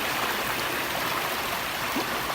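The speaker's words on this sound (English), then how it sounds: "we found this awesome place to camp in the bend of this beautiful creek" A creek runs through the floor of a canyon, a steady broadband rush of water flowing without pause, close and even throughout with no voices.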